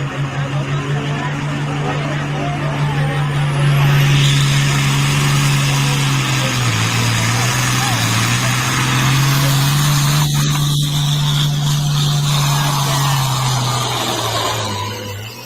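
A pulling tractor engine, a 2.4 Alter farm machine at a tractor pull, runs for a long stretch with a deep steady drone that sags and recovers midway, heard close with faint background bustle.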